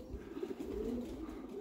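Pigeons at a garden-plot loft coo softly in a low, throaty murmur, several overlapping rolling coos, faint and close.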